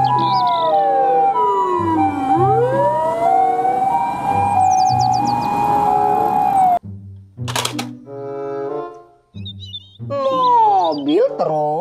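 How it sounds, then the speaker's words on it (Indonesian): A toy ambulance siren wails in repeated rising and falling sweeps, close and loud, then breaks into shorter electronic tones and chirps. "Mobil ambulans."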